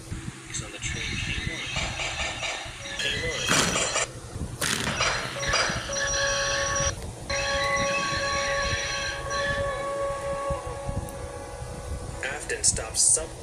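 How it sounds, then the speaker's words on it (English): A train rumbles along and its brakes come on with a sustained metallic squeal and screech, while a voice talks over it. "Just then, the brakes on the train came on."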